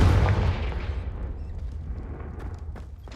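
A Confringo blasting spell explodes in Hogwarts Legacy, a loud low boom at the start that rolls off into a rumbling decay for a few seconds, with no talk over it.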